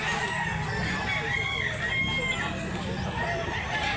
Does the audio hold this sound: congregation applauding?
no